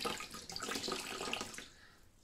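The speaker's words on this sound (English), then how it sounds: "Squeeze that water out" Wet felting wool squeezed by hand, releasing a soft, continuous trickle and splash of water close by that fades toward the end.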